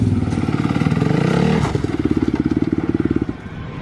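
A Yamaha 85 dirt bike riding motocross jumps, its two-stroke engine loud and close, revving up, easing off, then firing in a rapid pulsing burst before cutting back.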